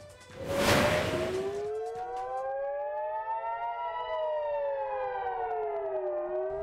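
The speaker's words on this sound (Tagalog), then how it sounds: "Sa Israel, ang pag-alingaw-ngaw ng sirena may kaakibat na pangamba." A civil defense air raid siren wails in Israel, warning of rocket or aircraft attack. A loud broadband burst at the start gives way to a long, steady rising and falling tone that continues throughout.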